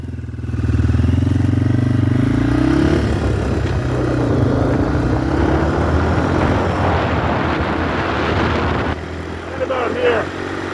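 Motorcycle engine droning steadily and loud while riding along a road, with rising and falling engine pitch as it accelerates, strong wind rush throughout and a brief dip near the end.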